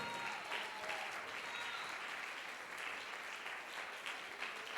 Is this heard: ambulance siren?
no